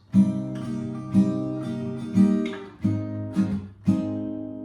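Acoustic guitar strummed through a chord progression, several strong downstrokes with lighter strums between, chords ringing clearly and close, no voices.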